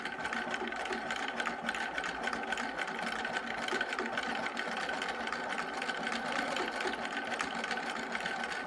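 A Husqvarna computerized sewing machine stitches through fabric, giving a steady, fast mechanical whirring hum close by that runs evenly without a break.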